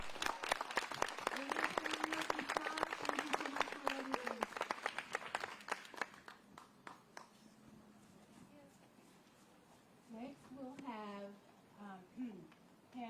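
An outdoor crowd at a Juneteenth celebration in Henderson County, North Carolina, gives scattered applause for about six seconds while a voice speaks over it, then the claps die away and talking continues with faint background noise.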